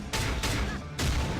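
Gunblade shots in the anime-style action game Closers Online: three loud, close blasts about half a second apart, each a sharp burst that rings out broadly before the next, with some low rumble underneath.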